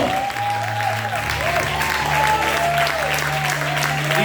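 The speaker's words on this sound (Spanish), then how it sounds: "Vamos a aplaudir fuerte, denle un mejor aplauso." Church congregation applauding loudly and steadily through the whole stretch, with sustained tones from music or a held voice running underneath.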